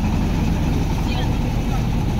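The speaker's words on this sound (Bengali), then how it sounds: "আর আমাদের সামনে দিয়ে আরও একটি ট্রলার যাচ্ছে খুব ভালো গতি দিয়ে" A motorized trawler speeds past on a haor wetland, its engine a steady, loud rumbling drone running continuously beneath someone talking nearby.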